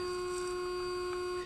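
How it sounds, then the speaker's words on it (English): Bulova Accutron caliber 214 tuning fork watch movement giving a faint, steady, pure electronic-sounding hum in F sharp, heard up close and alone for a second and a half. "This is the sound of a tuning fork movement."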